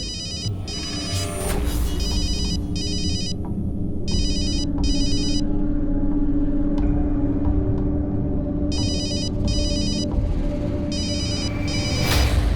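A phone rings in repeated electronic trill bursts, paired rings with gaps, over a constant low rumble of engine noise.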